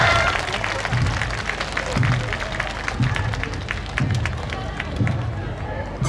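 Crowd at a festival main stage claps along steadily in rhythmic unison with cheering and loud ambient noise, a continuous thick wash of hand claps and voices over a pulsing low beat.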